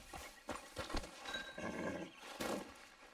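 Horse in the video game Red Dead Redemption 2, faint clip-clop hoofbeats in uneven bursts with a brief snort or whinny, quiet and close.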